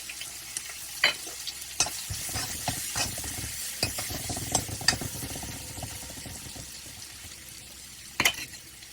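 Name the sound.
chili and ginger sizzling in hot oil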